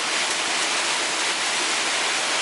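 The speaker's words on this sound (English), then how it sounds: "I do hear hail this time. Some hail." Heavy rain and hail roar in a dense, unbroken wash of noise while parked under an overpass, loud and close throughout with no distinct individual impacts and no talk.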